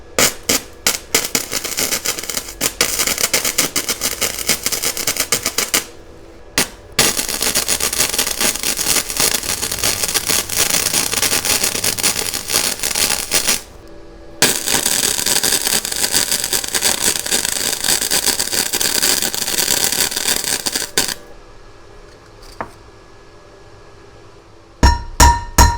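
Flux core welding on a GMC Jimmy harmonic balancer bolt gives a loud, harsh crackling buzz in three long bursts separated by brief pauses, ending in quieter short spits.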